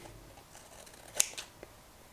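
Scissors trim paper for a paper bag junk journal, giving a single sharp snip near the middle and a softer cut just after, with quiet room tone around them.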